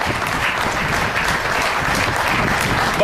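An audience claps in a steady, dense round of applause at a Tea Party address, sustained throughout at moderate loudness.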